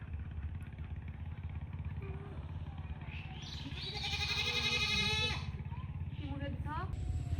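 Goats out grazing in hot sun bleat faintly in a wavering call midway through, over a low steady engine-like drone, and a voice speaks as well.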